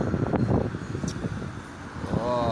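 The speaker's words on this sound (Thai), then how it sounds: "ลมแรงครับ หน้าหนาวแรงมากลมพัดพุดเลย" Strong winter wind blows in Surin, Thailand, a loud, rough, gusting rumble buffeting the microphone up close, rising and falling across the clip.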